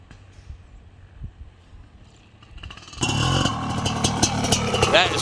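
A pristine 1997 Honda CR500R big-bore two-stroke motorcycle on a small backyard motocross track, quiet at first, then a loud, raspy engine roar that bursts in abruptly and holds with clattering bursts.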